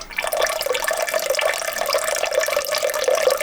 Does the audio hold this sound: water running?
yes